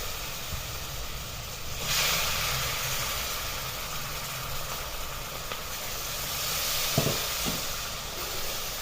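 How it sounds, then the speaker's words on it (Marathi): Soaked moong dal frying in hot oil with green chillies in a pan, giving a loud, continuous hissing sizzle that swells midway, with a couple of brief knocks near the end. "हिरवी मिरची चांगली परतून घ्यायची आणि आता याच्यामध्ये ही जी भिजवलेली मूग डाळ आहे चार ते पाच तास ती घालून घ्यायची"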